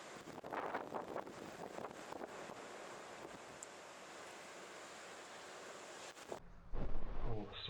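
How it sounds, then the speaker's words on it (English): Strong wind roars and buffets the microphone on a moving motorcycle for several seconds, then abruptly cuts off, leaving a quieter low rumble with a brief louder gust near the end. "Wow, it's so windy now."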